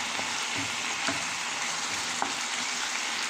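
Ground beef frying in a pan for ampalaya with tomato sauce gives a steady, close sizzle throughout, with a few soft stirring scrapes and small pops on top.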